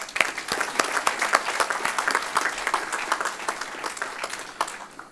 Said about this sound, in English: A big applause for all these faculty awardees.